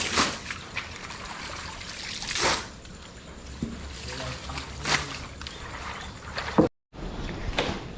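Floodwater trickles and splashes across a small farm after heavy rain, a continuous close watery wash with louder surges and brief clatters, cut by a short gap near the end.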